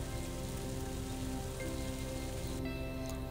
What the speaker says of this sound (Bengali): আলুটাকে বেশিক্ষণ ভাজতে হবে না, হালকা হালকা করে ভেজে নিয়ে তারপরে আমি এটাকে তুলে নেব আবার।